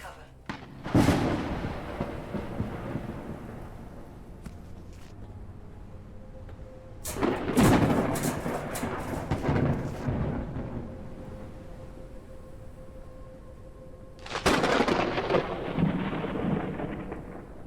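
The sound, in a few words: thunder and lightning storm in video game Forever Skies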